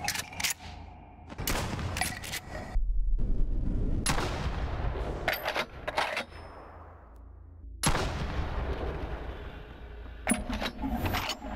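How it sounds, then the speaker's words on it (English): An M870 pump-action shotgun fires in the VR game BoneLab, with several loud booming blasts, each followed by the clack of the pump being racked, and echoing tails between shots. "There's something so satisfying about pump action shotguns in VR."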